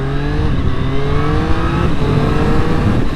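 A Triumph Street Triple 765 motorcycle pulls away, its engine loud and close, rising steadily in pitch as it accelerates with no voices over it.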